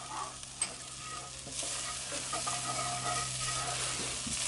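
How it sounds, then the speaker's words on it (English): Black pepper toasting in a Dutch oven, a steady sizzling hiss with light stirring and a few soft clinks against the pot, no voices. "Another thing I like to do at this point is like to toast my black pepper a little bit."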